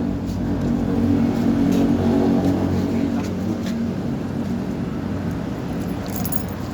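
A motor tricycle's engine idles steadily at close range as a family gets ready to ride home, with a low continuous rumble that holds throughout and a faint jingle of keys now and then.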